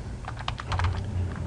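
Steady typing on a computer keyboard, close and continuous, with rapid clustered keystrokes and no voices.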